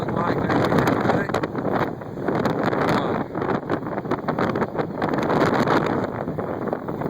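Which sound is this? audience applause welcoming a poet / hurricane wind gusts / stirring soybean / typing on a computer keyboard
hurricane wind gusts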